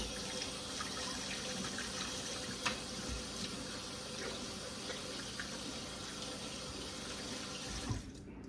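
Tap water pours steadily into a sink while hands are washed, a continuous close rushing splash with small bumps and knocks, then the flow cuts off near the end.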